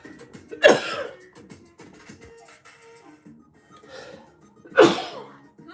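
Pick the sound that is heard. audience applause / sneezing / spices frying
sneezing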